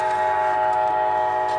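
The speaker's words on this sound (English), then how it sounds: "So there comes our train." A White Pass train horn blares loudly and continuously with steady tones over the rumble of the passing train, close by and dominating throughout.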